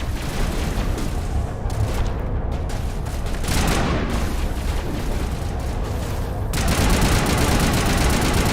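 Heavy battle noise in Mass Effect, with rumbling blasts and gunfire mixed together, loud and dense throughout, and a fresh burst of intense noise late in the stretch.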